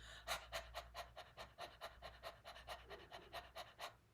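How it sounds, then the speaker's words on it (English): A voice teacher pants in a rapid, even rhythm as a breathing exercise in a singing workshop, roughly four short breaths per second, close and fairly quiet, with no talking over it. "I'm just panting, but if you could see my body here, this is moving."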